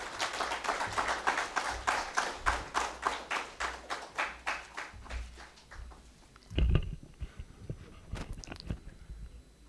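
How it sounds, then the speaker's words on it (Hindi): An audience at a May Day social evening and dinner claps to welcome a speaker, a steady rhythmic applause of regular beats that loosens into scattered claps and thumps toward the end. "आइए सम्मान और गौरव के साथ भरपूर तालियां बजाकर उनका स्वागत करें।"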